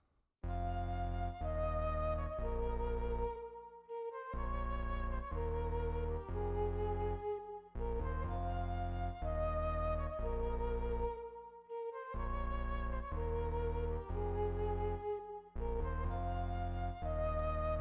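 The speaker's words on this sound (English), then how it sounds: "That basically shows us the bass line at the very end." A deep synth bass line plays repeating phrases with short gaps between them, joined by rising notes as a fill, steady and alone.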